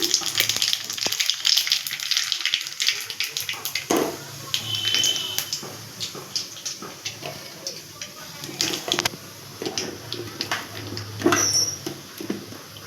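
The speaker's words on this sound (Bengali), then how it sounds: "শুকনো লঙ্কা ফোড়ন দিলাম কালো জিরে দিলাম" Dry red chillies and black cumin sizzle in hot oil for tempering, with a steady close crackle and hiss that runs throughout, broken by a few sharp clinks.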